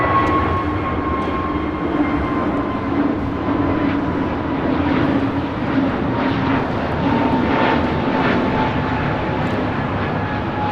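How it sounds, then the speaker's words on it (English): An Avianca Airbus A320neo takes off at LAX, its jet engines producing a loud, sustained roar with a steady droning whine throughout, alone without voices. "621 taking off to San Salvador on an A320neo"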